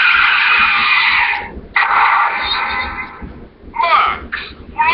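A Kamen Rider Drive henshin belt toy plays a loud, tinny electronic sound effect as the Max Flare item is inserted: a screeching, tire-skid-like burst, a short gap, then more chirping effects.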